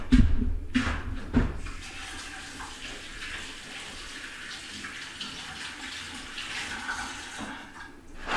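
Tap water runs as hands are rinsed of water-soluble glue during preparation of a deer cape for taxidermy. A few knocks and splashes come at the start, then a steady splashing flow.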